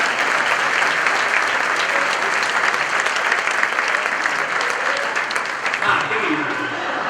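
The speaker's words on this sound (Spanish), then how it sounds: "un aplauso a los que hicieron un trabajo muy bien." Congregation applauding at a church general meeting, a steady, dense wash of clapping that fills the room for several seconds and thins slightly near the end.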